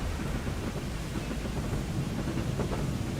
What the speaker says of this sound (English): I think I can hear another train